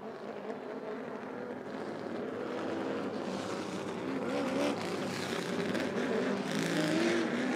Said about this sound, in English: All 7 of the late models will come on out for a 10-lap heat.